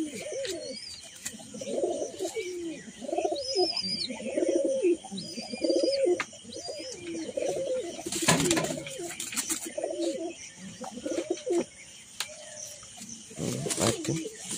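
Male pigeons coo in repeated low rolling phrases close by, several birds overlapping, with brief bursts of handling noise and faint higher bird chirps in the background.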